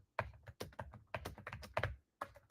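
Keys clatter on a computer keyboard in quick irregular bursts of close, crisp clicks, with short pauses between groups.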